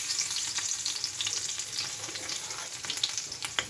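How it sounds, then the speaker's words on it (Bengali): Cumin seeds fry in hot oil, giving a continuous crackling sizzle with small sharp pops. It is fairly soft and close, with no talking. "তেলটা গরম, জিরেটা হচ্ছে, রসুনটা দেবো।"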